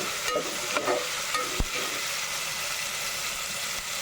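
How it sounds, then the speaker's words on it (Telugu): Spices fry in a pan for a gongura chicken biryani, keeping up a steady close hiss and crackle throughout, with a few soft clinks and stirring knocks and no speech. "ఇది కూడా చక్కగా వేయించుకుందాం"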